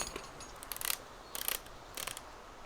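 Lumber being crafted into plywood in DayZ Epoch, heard as three short bursts of quiet mechanical ratcheting and clicking, evenly spaced against near silence.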